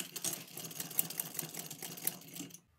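A sewing machine runs a short straight seam on a frill frock, with a fast, busy mechanical rattle for about two and a half seconds before stopping abruptly.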